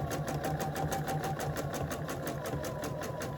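A sewing machine stitches a Christmas tree wall hanging, a steady close-up rapid mechanical whir and ticking hum running without pause.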